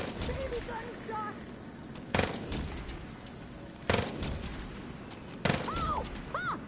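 Three sharp gunshot bursts in Far Cry New Dawn ring out at roughly even intervals, each a loud broadband crack standing out over a steady game backdrop of ambient noise and chirping tones.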